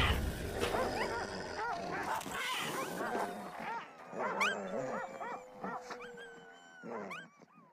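Hunting dogs barking and yelping excitedly on a scent, overlapping barks and whines near and loud, with growling and harsher roar-like cries mixed in over a noisy outdoor background.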